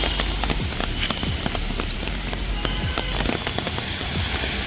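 Heavy rain falls during a road trip to Mumbai, a dense, loud, steady wash of drops pattering on a surface with scattered sharper taps and a low rumble beneath.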